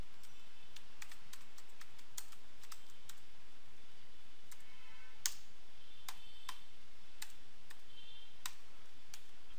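Someone types JavaScript code on a computer keyboard, a quiet series of irregular key clicks with scattered sharper taps against a near-silent background.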